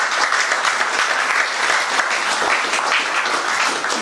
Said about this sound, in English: Please give a round of applause to somebody who works very hard.